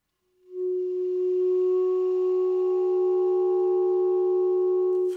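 A sustained clarinet multiphonic: one note with a steady second tone sounding above it, two pitches held together for about five seconds, clear and alone.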